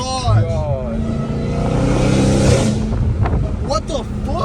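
A Dodge Hellcat Redeye with catless exhaust pipes roars loudly as it accelerates up through the gears, the engine note rising and swelling up close amid wind buffeting, with excited voices talking over it.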